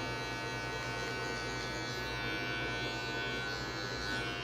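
An electric hair clipper fitted with a guard comb hums in a steady, fairly quiet buzz while trimming a mohawk fade, running without pause.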